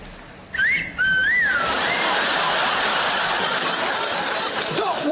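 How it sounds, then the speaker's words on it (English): Two quick wolf whistles, each rising then falling, ring out in a TV scene set on EastEnders' Albert Square, followed by snickering laughter and busy background noise. "Wolf whistles!"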